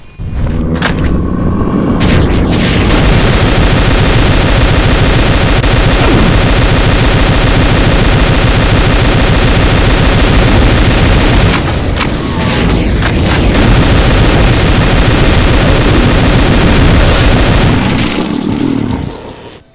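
Heavy, continuous gunfire from a modded Doom game: double-barrelled shotgun blasts and hexablast bursts pound almost without pause, loud and booming, with a brief lull midway and a tapering close.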